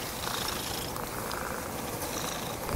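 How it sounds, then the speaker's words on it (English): A cat in the Tree of Dreams video game purrs in a steady, continuous low rumble that runs through the whole moment, fairly close and even, with no talking. "Hey, cat."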